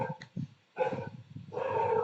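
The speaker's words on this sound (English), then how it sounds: "I can't offer you anything apart from dogs barking." A dog barks and whimpers close by in short bursts, then gives a longer, louder yelp-like bark at the end.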